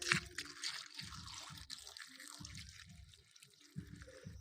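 Water poured over cut pumpkin pieces in a bowl: an uneven splashing and trickling with brief gaps and soft knocks, moderately close, no talk.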